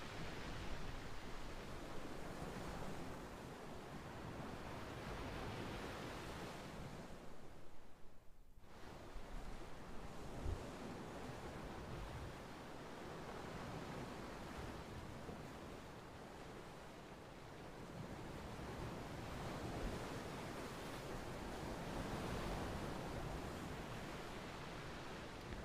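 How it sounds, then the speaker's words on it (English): Gentle ocean waves wash steadily at a waterhole overlooking the sea, a soft continuous surf hiss that swells and eases for the whole stretch, with no voices. "there's a beautiful view of the ocean, like I was saying, very gentle waves"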